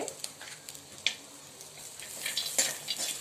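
Onion, ginger and cashews sautéing in a pan, a soft steady sizzle broken by sharp scrapes and clinks of the spatula at irregular moments, close and fairly quiet.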